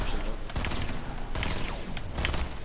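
Rapid bursts of gunfire in Fortnite, three loud close volleys separated by brief pauses, each a dense rattle of shots.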